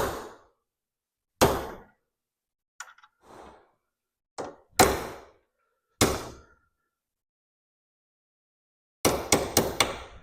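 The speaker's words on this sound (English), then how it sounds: "So if I push this through with the punch, hopefully the material will just kind of deform and the rivet will come out." A hammer striking a metal punch to drive a rivet out of an antique wooden ladder stool, sharp separate blows with pauses between them, ending in a quick cluster of four fast strikes.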